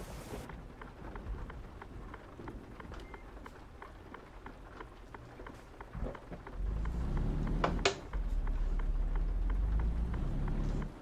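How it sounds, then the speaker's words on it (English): Heavy rain drums steadily in Euro Truck Simulator 2, with sharp droplet taps throughout that swell into a louder, denser downpour roar partway through, with no talking. "the rain is so freaking horrible"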